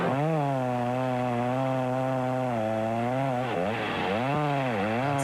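A chainsaw drones steadily, its engine pitch dipping and rising as it bites into wood, loud and close with no one talking.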